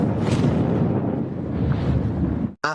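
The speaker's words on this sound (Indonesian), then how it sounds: "menginjak sebuah ranjau yang langsung meledak begitu hebat" A landmine blast in a film scene: a loud, sustained roaring rumble of the explosion fills nearly three seconds, then cuts abruptly to a brief burst of different sound at the end.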